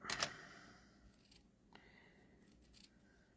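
Scissors cut through a leftover piece of thick cardstock paper at a craft table, with a sharp snip near the start and then a few fainter, softer cuts afterward.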